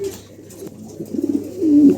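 Close, loud cooing from kept pigeons sitting on eggs, a low throaty murmur that rises and swells toward the end of the short stretch, alone without speech.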